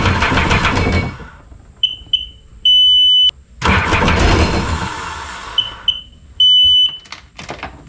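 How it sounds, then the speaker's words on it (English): A Sea-Doo jet ski that was pulled from a swamp, its engine cranking in two loud bursts and cutting off between them, while short electronic beeps sound repeatedly in the gaps. "So it's barely cranking, and sometimes it won't even crank, and when it does, it just kind of cuts off after a little bit"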